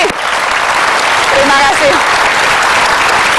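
Studio audience applauding for a singer on a talk show, steady dense clapping throughout with a host briefly speaking over it near the start.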